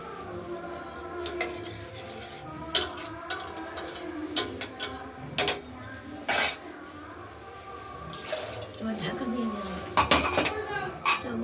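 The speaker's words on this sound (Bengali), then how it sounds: "এবার প্রেশারের ঢাকনাটা লাগিয়ে দিলাম" A pressure cooker lid is fitted onto a pot of fried moong dal, giving scattered metallic clanks and knocks over a steady background hum, close by.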